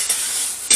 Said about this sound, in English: Moving this around so it doesn't burn too much.